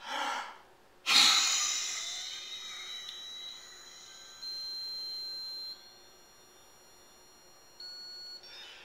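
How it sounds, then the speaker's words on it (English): A patient blows out forcefully into a PB Ren II spirometer, one strong breathy exhalation that rises sharply and then trails off, with soft steady electronic tones from the device continuing behind it. "tell them take a deep breath, blow out, and keep blowing until you tell you to stop"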